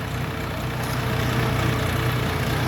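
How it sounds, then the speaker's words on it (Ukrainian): A Bulat 240 three-cylinder diesel mini tractor, 24 horsepower, idles steadily with a low, even rumble, close by and continuous throughout. "Трьохциліндровий дізельочок."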